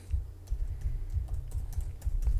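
Rapid typing on a computer keyboard while code is entered, a steady run of close clicky keystrokes with no talk.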